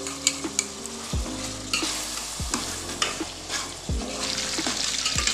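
Beef keema sizzles and fries in a pan as yogurt is stirred in, with a steady crackle broken by several sharp scraping strokes of the spoon against the pan, and no one speaking.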